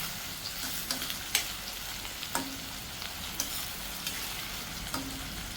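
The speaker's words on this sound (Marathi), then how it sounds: "आणि आता कांदा चांगला परतून घेते तेलामध्ये" Chopped onion frying in hot oil with curry leaves for an Agri-style red amaranth stem bhaji, a steady close sizzle broken by occasional sharp crackles and pops.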